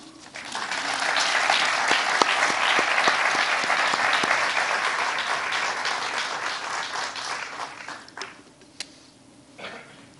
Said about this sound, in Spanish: el aplauso para el padre don Leonardo Castillo